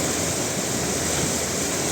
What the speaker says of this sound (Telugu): అటు నుంచి ఇటు సైడ్కి వాటర్ అయితే పారుతుంది